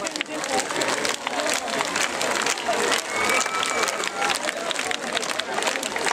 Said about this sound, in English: And clap with me